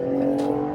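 A supercharged minivan with an eight-speed transmission accelerates past with a brief, steady engine whine and hum, heard up close for under a second with no talk.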